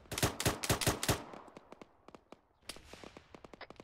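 ArmA 3 video game gunfire comes as a loud rapid burst of close shots, then scattered sharper single and clustered shots, some more distant, with no talk.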